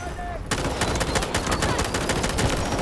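Dense gunfire from the shooter game Delta Force bursts in after a quiet half-second, rapid overlapping automatic shots and pistol cracks continuing loud and steady to the end.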